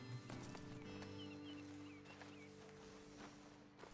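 Horses walking in Red Dead Redemption 2, soft, faint hoof clops close by over a quiet outdoor backdrop with ambient music and distant bird chirps.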